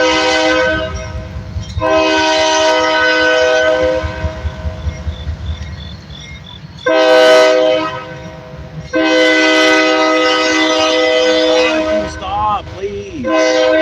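A train horn blasts loudly and nearby in long sustained chords, sounding three times with pauses between, over the rumble and clatter of passing rail cars.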